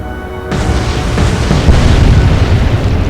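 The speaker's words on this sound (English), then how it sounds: "And the Anthony is sinking after being hit by 2 torpedoes" Torpedo strikes detonating against a merchant ship in the naval game Atlantic Fleet: one sudden, loud, deep boom that rolls on as a sustained rumbling roar.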